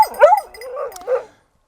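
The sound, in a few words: dog barking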